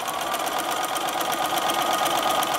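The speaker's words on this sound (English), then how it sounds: "We're going to stitch all the way across this way" Steady, rapid needle chatter from a sewing machine stitching across a quilted potholder, close and continuous with an even mechanical rhythm throughout.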